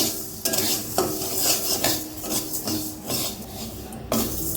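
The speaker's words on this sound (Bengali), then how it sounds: "পুরো মুগ ডালটাকে আমি লাল করে ভেজে নেব প্রথমে।" Mung dal being dry-roasted in a hot wok until reddish, with a spoon scraping and stirring in repeated strokes; close, rhythmic rasping with a light sizzle and no talking.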